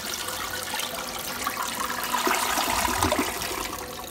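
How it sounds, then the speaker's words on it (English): A toilet with a hydrophobic coating flushes close up, a loud continuous rush and swirl of water that carries steadily through to the end without any voices. "We'll go ahead and try to flush it and just see how different it looks."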